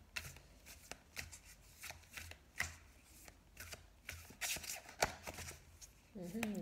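Tarot cards being shuffled in quick, soft riffling bursts, repeated several times at close range, with a quiet voice briefly heard near the end.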